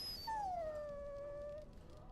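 A dog in Dragon Age: Origins lets out a single drawn-out whimpering howl, a high sliding whine that falls and then holds steady before fading, close and clear over a quiet background.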